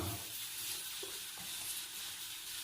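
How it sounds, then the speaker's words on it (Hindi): Whole coriander seeds dry roasting in a pan, a soft continuous hiss and rustle with a few light taps of stirring, faint and steady, with no talking. "इसको हम हल्का सा ड्राई रोस्ट कर लेंगे।"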